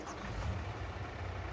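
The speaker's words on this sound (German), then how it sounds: "Ich schmeiß den Motor an." Tractor engine in Farming Simulator 22 idling, a steady low rumbling drone, even and moderately quiet with no talk over it.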